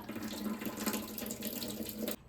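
Green-tinted water runs steadily from a tap and drains away in a home kitchen, a continuous close gush that stops abruptly at the end.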